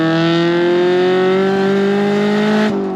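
A Honda Civic EJ9 with a 4-to-1 manifold, standard catalytic converter and resonator revs loudly and close up, engine note rising in a steady drone before dropping off sharply near the end.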